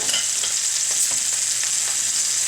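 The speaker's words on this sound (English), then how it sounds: "While those are frying" Steady, loud sizzling of pork chops frying in a hot pan, a continuous crackle with small pops and no voices.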